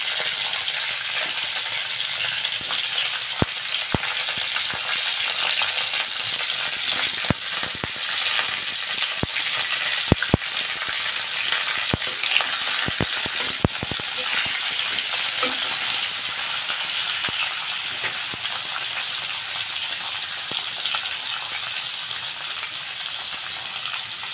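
Mixed vegetables with green chilies frying in a pan for a Bengali labra curry, giving a continuous bright close sizzle with occasional sharp clicks and taps of a spoon against the pan.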